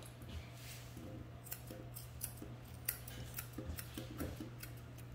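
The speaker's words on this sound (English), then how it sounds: "small curved scissors, and around his feet." Small curved grooming scissors snip around a Doodle's feet and toes, giving a run of light, crisp clicks in an irregular rhythm over a steady low hum, close and fairly quiet.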